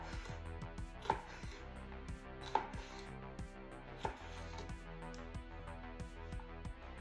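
Knife slicing a red vegetable on a crowded cutting board during weekly veggie meal prep, a few sharp chops spaced about a second or more apart over a steady low kitchen hum.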